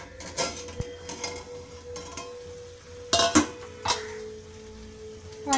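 Frying prawns in a pan on a medium flame, with a lid lifted off, metal clinks and clatters in a few short bursts over a faint steady sizzle, close and moderate in loudness.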